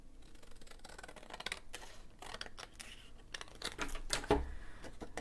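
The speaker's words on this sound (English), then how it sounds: "So I'm just going to take my scissors and cut that off." Scissors snipping off a strip of paper during a papercraft mini album project, making a few quiet, crisp clicks and cuts over faint room noise.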